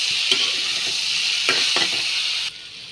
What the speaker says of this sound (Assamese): দি অলপমান ওলট পালট কৰি দিম।